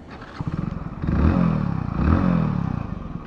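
A Hero Splendor Plus BS6 motorcycle engine starts up close and loud, settling into a rapid putter at idle, then revving up and easing back twice in smooth swells.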